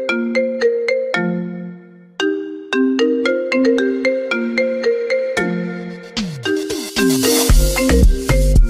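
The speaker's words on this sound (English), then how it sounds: "What if the iPhone ringtone was made in South Africa?" An iPhone ringtone melody in a South African style rings out loud and clear in bright plucked notes, with deep bass and percussion joining toward the end.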